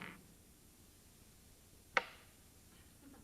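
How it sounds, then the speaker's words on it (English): A single sharp knock on a table during a coin magic trick, one crisp loud click standing out against near silence, with faint rustling before and after it. "That was the sound of one coin going through the table and joining the little die."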